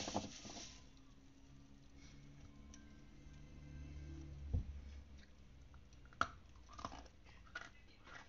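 Quiet, close chewing of edible velvet clay, with soft crunchy bites and a few sharper crackles scattered over about eight seconds, no talking.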